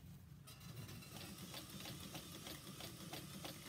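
A sewing machine stitches along the edge of a kitchen towel, a steady close mechanical whir with rapid periodic needle ticks running throughout after a brief quieter start.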